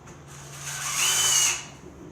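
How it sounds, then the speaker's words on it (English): Power drill driving a screw through an aluminum window frame while a retrofit vinyl window is installed, a steady whirring buzz that rises and strains for about half a second in the middle, then eases off. "These screws will go right through that metal aluminum window."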